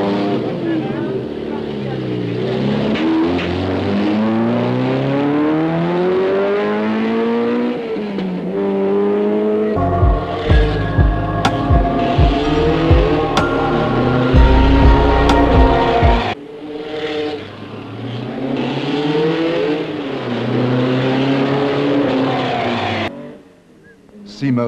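Lancia homologation special rally car, one of the first 100 built for FIA rally competition, with its engine revving and accelerating hard through rising and falling gear sweeps, loud and near, with someone talking over it.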